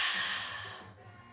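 Single long exhale during a breathing exercise, a close, soft airy breath that starts fairly strong and fades away over about a second.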